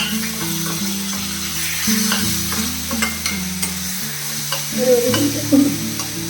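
Moringa drumsticks sautéing in a pan give a steady sizzle with stirring and scraping strokes, over a sustained tonal backing, growing a little louder near the end.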